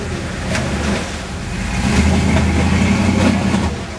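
A truck on 47-inch tires revs its engine while climbing a waterfall, a steady loud mid-range drone that builds and swells halfway through, with rushing water mixed in.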